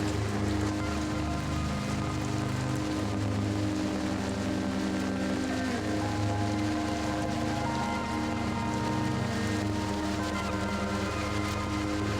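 Heavy monsoon rain falls outdoors on a garden in Konkan in a constant, even wash of sound, with no breaks.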